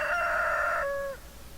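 A chicken from a Stardew Valley farm lets out one drawn-out, tonal squawk, close and clear, that tails off into quiet after about a second.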